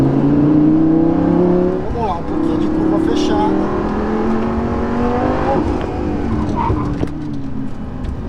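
A Lamborghini Gallardo LP550-2 sports car on a night drive, its engine loud and close, revving and shifting in pitch through a tight corner while someone talks over it.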